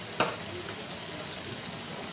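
Water spinach and seafood sizzle steadily in a hot pan as they are stirred, a constant close hiss with a brief scrape of the utensil near the start and no talking.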